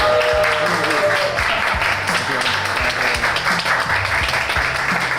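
A studio audience gives loud, sustained applause and cheers to welcome a speaker. The clapping is dense and continuous throughout.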